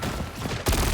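Rapid bursts of gunfire from the hero shooter video game Marvel Rivals, loud and close, growing denser and heavier partway through the brief moment, with no talking.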